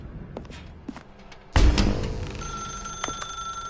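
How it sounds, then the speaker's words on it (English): A telephone rings in the video game The Stanley Parable, a sudden loud ring bursting in midway after a few quiet soft thumps, then sustained bright tones continuing to the end. "Now pick up the phone."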